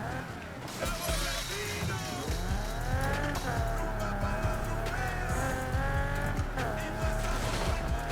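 Car drifting in the video game NFS Heat, the engine wailing through shifting revs while tires squeal in a continuous loud run, with game music and sound effects layered underneath.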